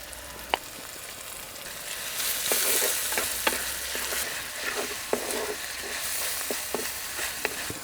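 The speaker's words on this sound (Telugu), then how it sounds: "వేగాక కరివేపాకు వెల్లుల్లి పచ్చిమిరపకాయ ముక్కలు కూడా వేసేసుకుందాం ఇది ఒక్క నిమిషం ఇలా కలుపుకొని టమాటా ముక్కలు వేసేసుకుందాం ఇది ఒక్కసారి అలా కలుపుకొని" Tomato pieces fry with curry leaves, garlic and green chillies for a bitter gourd tamarind curry, a continuous close sizzle punctuated by repeated sharp clinks and scrapes of a spoon stirring in the pan.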